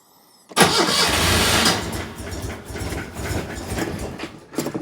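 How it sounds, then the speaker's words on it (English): A car that has sat unused for a week, in neutral, cranks briefly and then catches and starts, settling into a loud, steady running engine close by with no talk. "She hasn't run for a week, so she may take some cranking to get the fuel up"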